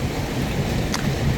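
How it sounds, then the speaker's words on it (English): Light rain falling steadily outdoors in Thailand, a soft continuous wash of patter close by with no distinct drops standing out. "Well, it's raining a bit."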